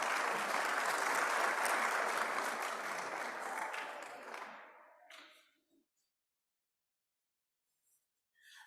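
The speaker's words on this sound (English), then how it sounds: "Another round of applause for Ntate Sithole, please." A summit audience applauds a speaker with sustained, even clapping that fades out around the five-second mark into near silence, followed by a short faint sound at the end.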